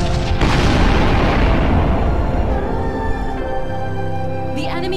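Missile barrage explosions in the space combat game Sunrider, a heavy booming rumble that fades over several seconds, with a synthetic voice-like tone near the end.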